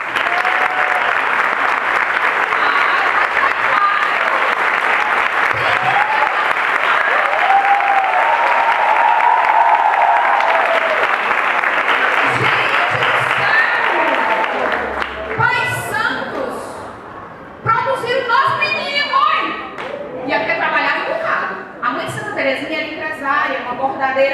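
Audience in a Catholic course on Saint Thérèse of Lisieux applauds her parents, sustained dense clapping for about fifteen seconds that then thins out and gives way to a speaker talking.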